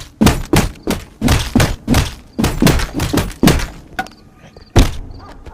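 Baseball bat strikes in the VR game Bonelab, a run of about a dozen heavy, hollow thunks in quick irregular succession, then a pause with faint clatter and one final hit.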